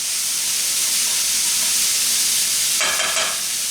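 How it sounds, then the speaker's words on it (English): Onions sautéing in a pan with seasoning salt, a steady close sizzle and hiss throughout, with a brief clatter of stirring near the end. "just saute them till they start to soften up, so the onion gets a little translucent"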